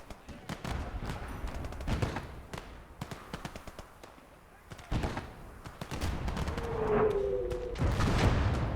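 Infantry gunfire in the WWII street-fighting game Conquest of Normandy, with scattered sharp shots and short bursts, some near and loud, others distant, plus a brief tonal whine near the end over continuous battle noise.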